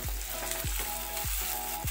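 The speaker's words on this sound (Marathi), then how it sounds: "त्यात मी आता टोमॅटो जो एक कापून घेतला होता तो घालून घेते" Chopped tomato tipped into browned onion in a hot pan, frying loudly with a constant close sizzle and a few rhythmic scraping stirs.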